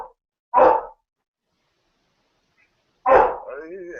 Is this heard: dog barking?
yes